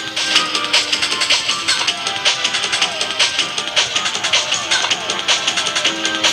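Electronic mobile phone ringtone with a quick rhythmic melody of bright repeating tones and a steady pulsing beat, played close and clearly with no voices.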